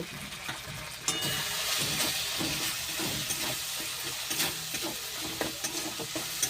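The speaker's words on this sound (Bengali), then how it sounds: "হলুদ গুঁড়ো আর দেব লঙ্কার গুঁড়ো। এইবার ভালো করে কষিয়ে নেব।" Cauliflower and potato stir-fried with turmeric, cumin and chilli powder for a Bengali rasa, a steady close sizzle with scraping stirs and clattering spoon strokes throughout, no talking.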